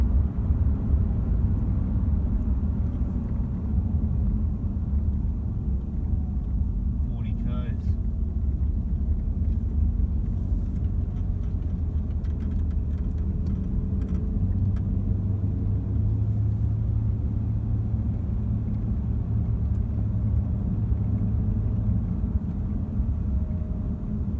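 Car slowing down on the road, a steady low in-cabin rumble of tyres and drivetrain that eases gradually, with a faint hum appearing midway and light clicks and rustles over it.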